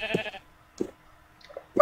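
Sheep in the video game Minecraft bleat in short, nasal calls, three or four separate bleats spaced across a couple of seconds with quiet gaps between them.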